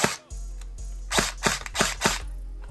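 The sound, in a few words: HK416 airsoft gun firing full auto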